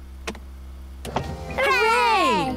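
A convertible car roof in a Peppa Pig cartoon whirs open after a button press, a steady electric motor hum rising and sweeping down in pitch after a couple of brief clicks.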